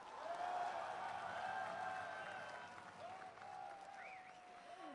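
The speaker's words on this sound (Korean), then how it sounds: "다시 한 번 더 큰 박수 부탁드리겠습니다" A welcome ceremony audience applauding after a speech at a homecoming event, with steady, distant clapping filling the room and faint background voices and sounds.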